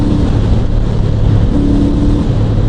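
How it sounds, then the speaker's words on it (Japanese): Engine of a Honda CL500 motorcycle cruising on the highway at 90 km/h, a loud steady low drone with a faint changing tonal hum, blended with constant wind rush. "エンジンも聞こえるかな。"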